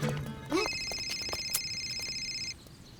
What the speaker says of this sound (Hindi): सर का फोन।